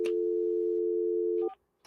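During a phone call attempt on a live morning show, a steady, loud telephone busy tone drones for about a second and a half, cuts off, and then short beeping telephone tones follow.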